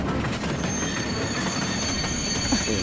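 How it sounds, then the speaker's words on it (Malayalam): A cartoon train runs along the rails with loud, continuous wheel squeal and rolling rumble, close and steady throughout, with a high sustained screech riding over the clatter. "ട്രെയിൻ ഒന്ന് സ്ലോ ചെയ്യൂ."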